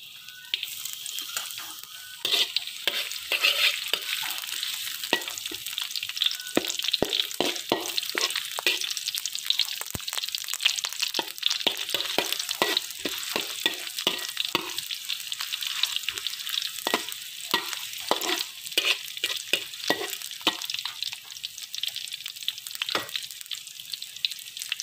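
Shallots sizzle steadily in hot oil for a spicy Javanese fried rice, with frequent scraping and clinking from stirring that keeps up a busy, uneven rhythm at close range throughout.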